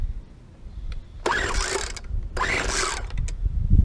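Two pull-cord attempts on a Poulan Pro SM400 leaf blower with choke and throttle on, each a short ratcheting whir of the starter that fails to catch, close and loud, with low rumbling between.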